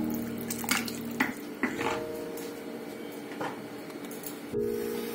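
Water poured from a container into a cooking pot on a lit gas stove, about two litres going in for Tibetan thukpa noodle soup, a steady close splashing stream with brief clinks of the pot and no talk.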